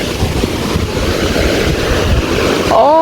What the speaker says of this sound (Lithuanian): girdžiu kaip kažkokį krioklį